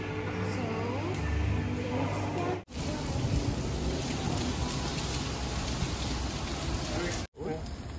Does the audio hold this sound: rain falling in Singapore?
yes